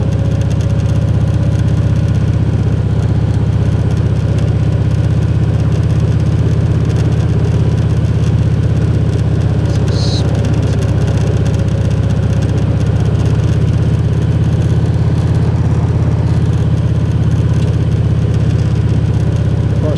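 A motorcycle cruises gently through the curves of a rustic rural road lined with pines, its engine a steady, close, continuous drone with no talk.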